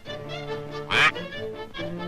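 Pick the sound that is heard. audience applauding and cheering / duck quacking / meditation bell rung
duck quacking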